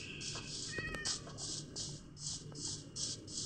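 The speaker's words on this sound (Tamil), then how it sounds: "பாருங்க, பக்கமே ஒரு பூனை ஓடிக்கிட்டு இருக்குது" A cat meows repeatedly in the Minecraft video game, several short cries in a steady rhythm over a constant background hum and game sounds.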